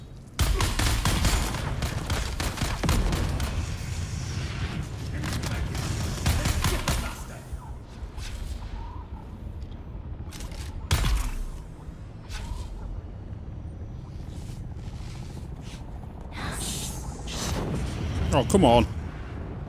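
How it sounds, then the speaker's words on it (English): Grenade thrown and exploding in Dune: Awakening amid heavy gunfire, with loud dense bursts early, then scattered sharp blasts and shots, and a person speaking over the action. "Throwing grenade! Tossing grenade!"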